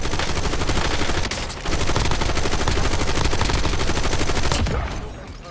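Sustained rapid automatic gunfire rattles nonstop in a Call of Duty: Warzone battle royale match, loud and dense bursts overlapping for about five seconds before tapering off at the end.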